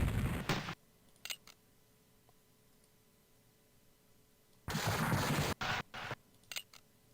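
Musket and cannon gunfire from the Civil War Generals II strategy game comes in two dense crackling volleys, one at the start and one later, with near silence between them.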